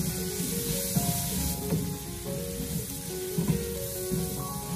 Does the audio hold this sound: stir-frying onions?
yes